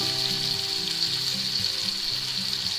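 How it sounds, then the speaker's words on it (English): Butter melting with minced garlic in a frying pan, ahead of a ribeye steak with sautéed onions, mushrooms and asparagus, gives a steady close sizzle with soft crackle throughout, no talking. "And we'll melt our butter."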